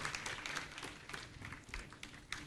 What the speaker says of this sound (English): Oh, a round of applause again for them.